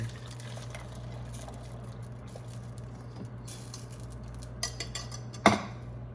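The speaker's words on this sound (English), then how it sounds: "it's time to strain it into our kettle" Masala tea being strained into a kettle over a steady low stove or appliance hum, with faint liquid trickling, a few light metal clinks, and a sharp clank near the end.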